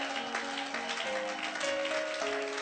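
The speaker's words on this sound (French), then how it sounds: "Acclamons encore Jésus, le roi des rois, le Seigneur des seigneurs." A church congregation claps and acclaims during worship, a steady, dense patter of many hands over sustained musical tones, heard at a moderate distance and fairly soft.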